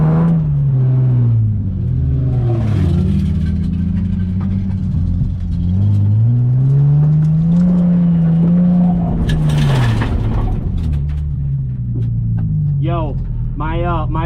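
Loud Nissan 370Z engine heard from inside the car while driving, its drone rising and falling through repeated revs and gear changes, with a voice talking over it.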